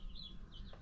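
Brahma Comet chicks give a few faint, high peeps over a low background rumble, quick and soft.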